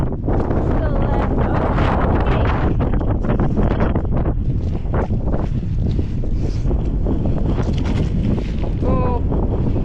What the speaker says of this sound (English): This is the summit of Pavey Pike. The wind's dropped a little now.